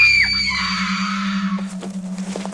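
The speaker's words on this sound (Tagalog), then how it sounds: "Pareho kaming nagulantang nang bigla na lang sumigaw si Abby." A woman's sudden high-pitched scream rings out as a horror story sound effect, loud and sustained before breaking off, over a low steady drone.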